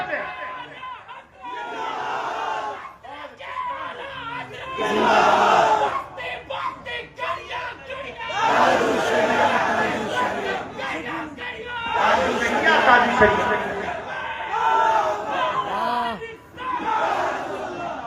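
A large crowd at a religious gathering shouting a chant response in repeated loud waves, the massed voices swelling and fading several times, with a speaker's voice in between.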